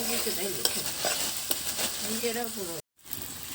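Spice paste with tomato paste being stir-fried in a kadai for vegetable khichuri, scraping spatula strokes over a sizzle, close, with a voice talking over it and a brief dropout near the end.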